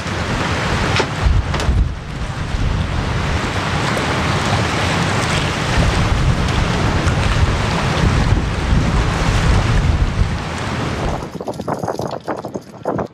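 Strong wind gusts of up to 40 knots buffet a sailboat out on the open water, a loud, continuous roar of wind across the microphone over rushing waves, dropping away abruptly near the end.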